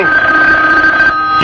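A telephone bell rings steadily and loudly in an old-time radio mystery drama, a continuous trilling tone that breaks off briefly near the end before starting again.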